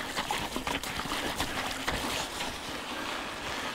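Spring meltwater trickling and splashing in a small stream beside a mountain bike trail at Ylläs in Finland, a steady close rushing burble with no talking.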